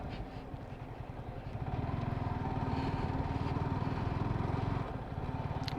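A motorcycle engine rumbles steadily while riding a narrow off-road path on a Yercaud ride. The throbbing drone is close and continuous, growing slightly louder partway through, with no talk.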